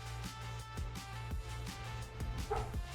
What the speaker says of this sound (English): I'm hearing a lot of barking